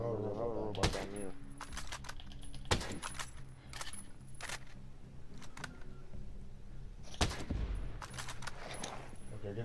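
Enemy gunfire in the tactical shooter Ghost Recon Breakpoint: sharp, scattered shots crack out at irregular intervals, some in quick pairs, under a player's talk and low game ambience.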